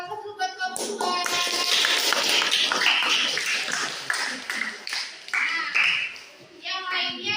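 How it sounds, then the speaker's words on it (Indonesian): Children in a classroom clap for group 2, a burst of brisk, uneven clapping that swells after a moment and carries on for several seconds, with kids' voices and a teacher talking around it. "Tepuk buat kelompok 2."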